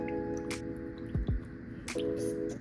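Raw chicken washed by hand in a bowl of salted vinegar water gives soft drips, splashes and squishy handling noises, with two brief louder sloshes.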